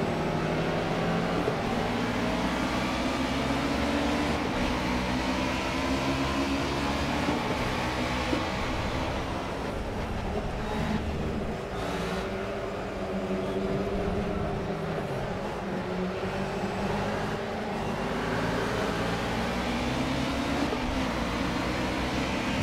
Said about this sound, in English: this car is so loud!